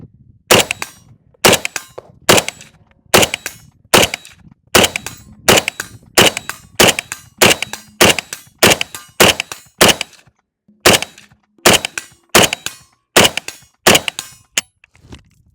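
An AK-47 rifle fires a long string of loud, sharp single shots in a steady rhythm, a little under a second apart, with brief pauses between groups; no talking is heard.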